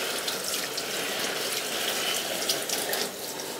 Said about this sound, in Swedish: Men nu tar jag och ger den en liten sån här duschning här då.